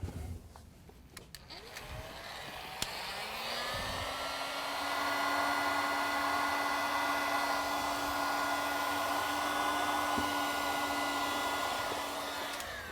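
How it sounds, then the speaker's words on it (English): A heat gun blows steadily while shrinking heat shrink tubing over wire connections for a refrigerator defrost thermostat. Its constant whirring hiss starts up and grows louder, then holds close and even for most of the clip. "or if you have a heat gun, you can use that."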